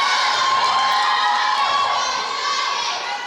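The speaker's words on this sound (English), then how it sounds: "They cheer each other on." A high school gymnastics team cheering each other on at a meet, loud shrill shouts and whoops from young voices blending into a continuous crowd roar that fades slightly at the end.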